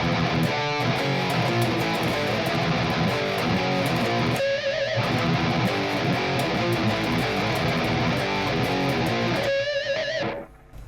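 Heavily distorted electric guitar through an amp simulator with a TS9 overdrive in front chugs and rings, loud and continuous riffing with a couple of squealing sustained notes, ending abruptly.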